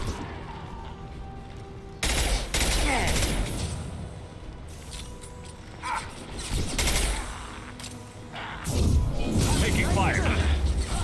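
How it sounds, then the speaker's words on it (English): Rapid bursts of gunfire in a Mass Effect Legendary Edition firefight come in loud clusters separated by short lulls, with mechanical clatter and a voice talking between the volleys. "Taking fire."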